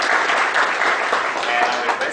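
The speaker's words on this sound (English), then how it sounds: "A big round of applause, ladies and gentlemen." An audience at an inauguration event claps steadily and densely throughout, a continuous wash of applause from a seated crowd in a hall.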